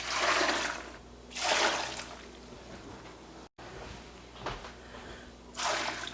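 Water poured into a pot of cubed potatoes for soup, coming in several separate splashing bursts between quieter gaps, fairly close, with no talking.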